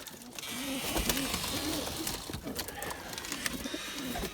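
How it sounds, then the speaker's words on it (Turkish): Melemen testi pigeons cooing close by in repeated low throaty calls, with some fluttering and handling noise in the background. "Bunlar Melemen testisi."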